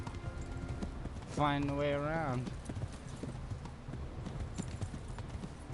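Horse hooves clip-clop steadily in a medieval knight video game, a rhythmic run of hoof beats with a short whinny, while someone talks over them throughout.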